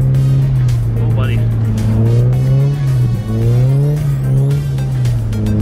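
A car's engine revving hard during a drift on a winter drift session, a loud, close, sustained roar that swells and dips as the throttle is worked.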